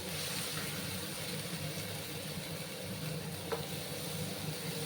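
Spice paste frying in a pan for pabda fish curry, giving a steady close sizzle with a low hum underneath and a faint utensil tap partway through, with no talking.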